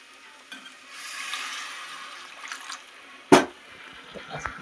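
Water poured into masala in a cooking pot gives a soft hiss and sizzle that builds gradually, then a sharp clatter and a few small knocks near the end.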